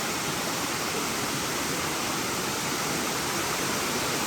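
Crabtree Falls in North Carolina roars in a steady, dense rush of falling water, constant and full with no breaks.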